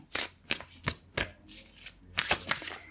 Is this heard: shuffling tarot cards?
yes